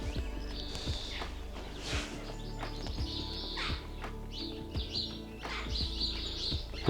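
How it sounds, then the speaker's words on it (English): A house martin calls as it flies over a garden with apple trees, giving repeated high chirps and twitters, with other bird calls and soft footsteps beneath. "house martin flying over,"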